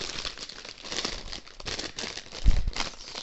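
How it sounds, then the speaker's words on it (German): Plastic bag around a snail-shaped plush cushion crinkles and rustles steadily during unboxing, close and moderately loud, with a heavier thump or crumple burst near the end and no talking. "Wo geht denn die Tüte auf?"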